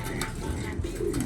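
A racing pigeon coos softly outdoors, a brief low murmuring call under faint background talk.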